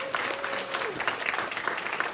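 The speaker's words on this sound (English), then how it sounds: "Now give yourselves a round of applause." A banquet audience claps together in a dense, steady round of applause that holds at an even level throughout, with a faint tone running underneath.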